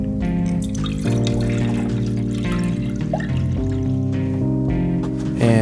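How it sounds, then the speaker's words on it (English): A second liter of water is poured steadily into an ultrasonic cleaner tank, a close, loud gurgling flow whose pitch rises as the container fills, ending with a splashy burst. "Now we're going to pour another liter just the same as the first."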